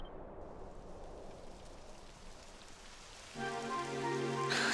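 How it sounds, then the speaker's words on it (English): Rain falling in the video game Dragon Quest XI, a soft, steady hiss of rainfall heard faintly, with a tonal musical swell entering near the end. "It would have to go and start raining, wouldn't it?"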